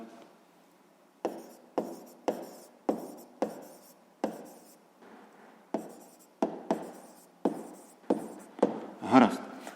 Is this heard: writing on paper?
yes